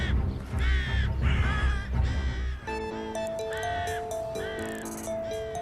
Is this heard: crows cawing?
yes